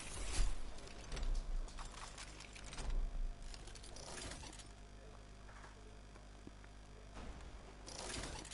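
Weapon reload in a PS4 shooter: a run of mechanical clicks and ratcheting clacks in short bursts, fairly close and moderately loud, with quieter game ambience between.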